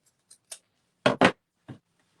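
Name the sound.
scissors trimming a gift bag handle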